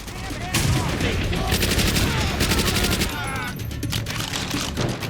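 Tommy gun submachine gun fire in Call of Duty: World at War, loud rapid bursts crackling almost nonstop, with brief gaps between volleys and a dense battlefield din underneath.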